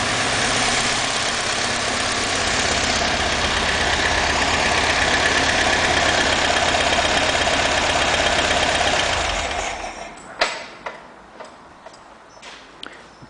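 A 1977 Alfa Romeo Spider Series 2 idles steadily with an even ticking mechanical note for about ten seconds, then the engine is switched off and the sound dies away, leaving a few faint clicks and knocks.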